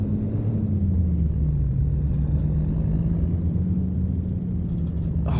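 A MAN 520HN truck engine in American Truck Simulator idles with a steady, loud low rumble and a droning hum that shifts slightly in pitch, with no talking.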